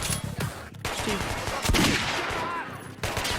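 Bursts of rapid gunfire and sharp shots ring out in the shooter game Metro Last Light, dense and loud throughout with brief gaps, and a voice briefly speaks over the action.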